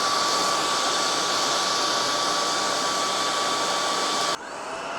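Trucozie cordless 60Kpa vacuum cleaner running with a loud, steady rushing whine of blown air and a constant tonal hum, close, then the pitch drops abruptly near the end as the airflow changes.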